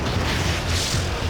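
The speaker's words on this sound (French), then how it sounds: "quelle explosion!" Explosion heard as a sustained, loud, broadband roar and rumble filling the whole moment without a clear onset, like the middle of a large blast.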